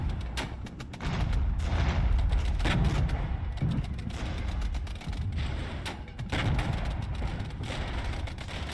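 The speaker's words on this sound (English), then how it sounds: "Now they are shooting at us." Sustained battlefield gunfire with booming artillery in the strategy video game Regiments, a dense, continuous roar of shots and blasts that stays loud throughout, briefly dipping and surging again.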